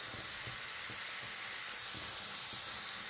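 Onion with red chilli and spices frying in a pan for fenugreek parathas, giving a steady close sizzle with faint crackles throughout and no talking.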